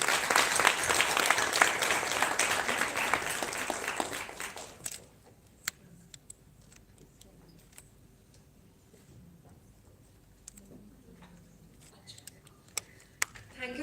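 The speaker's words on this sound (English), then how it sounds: "So big round of applause for my speakers." Audience applause for speakers at a health conclave, dense clapping that fills the first few seconds and then thins to scattered claps and small clicks in a quiet room, with faint talk.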